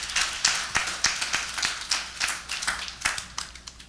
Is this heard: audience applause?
yes